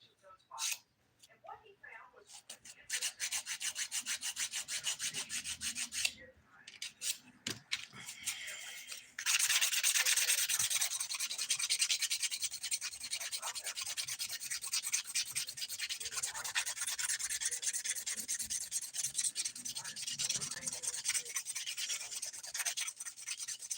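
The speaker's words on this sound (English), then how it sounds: "Once I finish filing, I'm going to wrap this mani up quick." Nail file rasping across fingernails during a dip powder manicure, a fast, continuous close scratching that grows louder and denser partway through, with a short pause early on.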